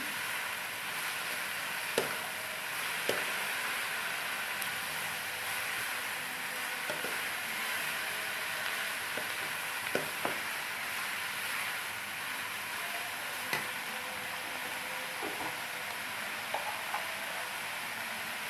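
Chicken with fresh coriander being stirred and mixed in a pan, a steady sizzling hiss with sparse clicks and scrapes of the spoon scattered through it.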